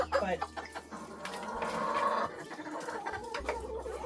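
Hens clucking and murmuring softly through the whole stretch, with a person talking over them and a low steady hum underneath.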